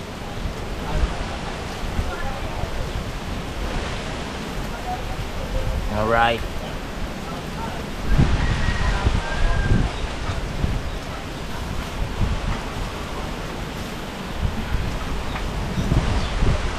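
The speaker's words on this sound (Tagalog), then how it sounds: "Nalo, nabulusok na ang hangin, oh" Strong typhoon Karding winds gust through trees outdoors, a broad rushing roar that swells and drops with rustling leaves and buffeting on the microphone, while someone talks over it throughout.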